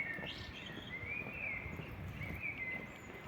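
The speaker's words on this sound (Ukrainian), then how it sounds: "пташечки співають нам" Thin, whistling birdsong drifts through the air, a few sustained high chirps and trills rising and falling over a soft, steady outdoor background.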